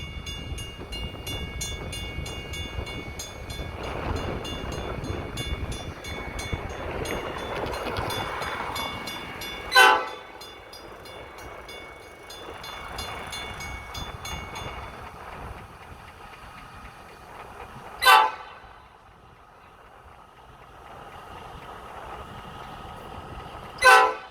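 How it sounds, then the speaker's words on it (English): A local freight train rumbles past a derailment site in Medina, Ohio, with several loud horn blasts spaced apart, the engine noise swelling and fading between them. "Oh, and there's the train"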